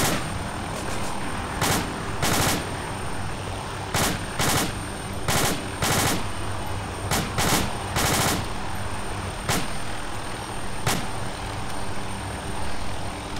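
Bursts of gunfire crack out in a shootout, with irregular sharp shots and short rapid volleys scattered over a steady engine rumble, fairly loud and close, with no voices.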